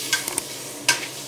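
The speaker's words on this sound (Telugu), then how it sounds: "పసుపు, కారం, సాల్ట్, రాళ్ళుప్పు, సరిపడా సాల్ట్ వేసుకుని బాగా కలుపుకోవాలి" Jackfruit seed curry with turmeric, chili and salt is stirred in a pan, with a few quick scraping strokes over a faint sizzle.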